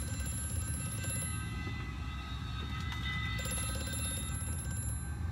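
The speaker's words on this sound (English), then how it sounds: "Shut up, phone." A ringing telephone in the video game Amnesia: A Machine for Pigs, a steady, high metallic bell tone that repeats continuously over a low mechanical rumble, fairly faint and without speech.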